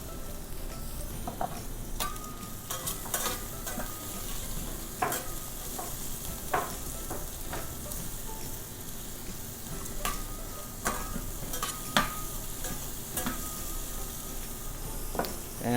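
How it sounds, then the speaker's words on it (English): Garlic and onions fry in a pan with a continuous soft sizzle, broken up by frequent sharp clicks and scrapes as a utensil stirs and taps against the pan. "to the same pan, add in your garlic and onions."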